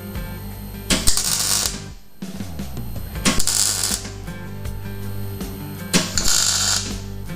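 Three short tack welds are struck on a steel jig, each a brief crackling burst of hissing sizzle spaced a couple of seconds apart, with quiet clunks and shop noise in between, heard close and fairly loud.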